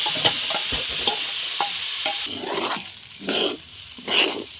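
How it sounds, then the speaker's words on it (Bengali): Washed rice and lentils go into a frying pot for cauliflower khichuri and are stirred through, with scraping stirs over a steady sizzle at close range. "চালটা ধোয়া ছিল দিয়ে দিলাম চাল আর ডাল"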